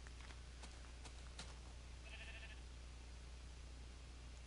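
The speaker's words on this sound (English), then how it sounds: "Shut up, sheep." Minecraft sheep bleating once, a short faint bleat in the middle over a constant hiss and low hum, with a few soft clicks early on.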